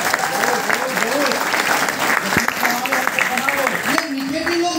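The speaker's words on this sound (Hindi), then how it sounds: "ताली हो सकती है इसके लिए" Audience applause at a live motivational talk programme, a dense steady wash of clapping that fills the whole stretch, loud and close, with murmured voices mixed underneath.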